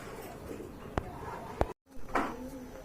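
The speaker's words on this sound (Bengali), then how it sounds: "চমৎকার অনেক বড় সাইজের কবুতর" Large pigeons at a pigeon market give soft, low coos, with a few sharp clicks and knocks and a brief gap of silence midway, faint voices in the background.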